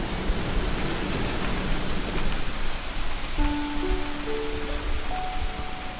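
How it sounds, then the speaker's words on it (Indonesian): Heavy rain pours down in a dense, constant hiss that fills the whole scene, with faint tonal notes entering partway through and no voices heard. "Hujan lebat bukanlah halangan untuk Sapik"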